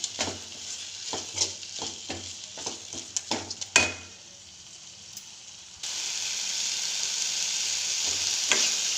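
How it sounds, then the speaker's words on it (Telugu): Chopped fenugreek leaves cook in a pan for a Telugu fenugreek dal, first with several sharp stirring scrapes and clatters, then a steady soft sizzle that continues alone. "మెంతాకు సన్నగా కట్ చేసి పెట్టుకున్నాం అది మనం ఇందులోకి వేసుకోవాలి వేసి బాగా మగ్గించాలి"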